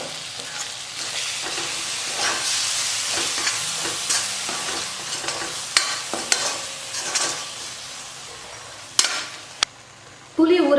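Ground paste for manathakkali vathal kuzhambu being fried in a pan with chilli powder and salt, a steady sizzle broken by repeated scraping stirs and a few sharp clinks of the spoon.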